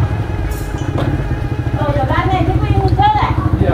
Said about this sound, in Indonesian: ini menurunkan sebuah kendaraan sepeda motor ya